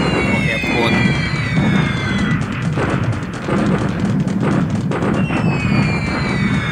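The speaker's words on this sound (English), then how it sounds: "Airstrike or airstrike on airfield or airport." Airstrike bombing on an airfield in the War in the Pacific strategy game: dense, continuous rumbling explosions and crackle with descending whistles, loud and sustained across the whole stretch.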